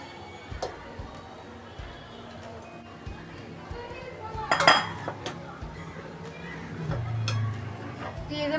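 Cooking sounds of prawns and rice being added to a pot of prawn biryani, with clinks and clatters of a utensil against the metal pot, a sharper burst of clatter midway, and some background noise.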